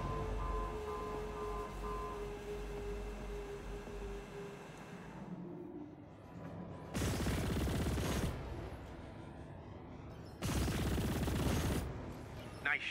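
Automatic gunfire in the sci-fi space combat game Chorus: two long, loud sustained bursts of rapid fire over a low engine hum, each lasting a couple of seconds with a pause between.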